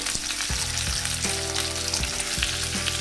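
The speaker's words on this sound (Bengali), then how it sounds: "শিমটাও একটু ভাজা ভাজা করে নেব" Halved flat beans frying with potato and radish in a pan, a dense sizzle punctuated by several metallic clanks as a spatula stirs, close and without talking.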